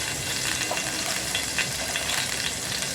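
Cumin and other whole spices frying in hot oil for a chicken and taro-leaf curry make a steady, close, bright sizzle with no pauses and no voices.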